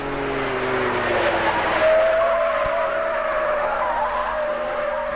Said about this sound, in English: those standard tyres are just a little noisy